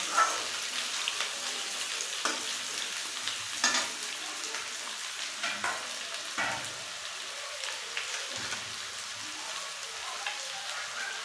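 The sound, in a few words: stirring and frying potatoes in a pan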